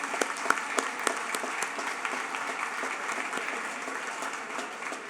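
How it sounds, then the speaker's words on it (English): A banquet audience at the CBC 2025 Merit Awards ceremony gives a warm round of applause for the event sponsors, steady, dense clapping from many hands at moderate volume throughout. "Big applause for our sponsors"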